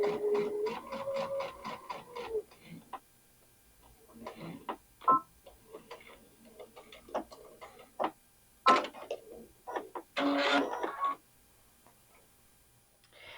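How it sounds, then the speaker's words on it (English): Domestic sewing machine stitching quilt binding, heard as bursts of fast rhythmic mechanical ticking that start and stop in short runs, fairly close and clear with no voices. "And then I just stitch right up to that,"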